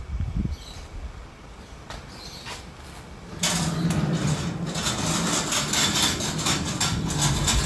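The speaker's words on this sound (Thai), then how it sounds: "ก็เราเปิดประตู ให้ดูนะครับ" The entrance door or gate of a detached house in Rayong, Thailand, is opened: a few knocks and clicks, then a loud, steady rolling scrape that keeps on for several seconds.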